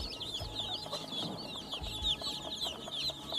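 An Aseel hen, a large fighting breed, clucks steadily with soft repeated calls over a busy, noisy farmyard background, fairly close and continuous.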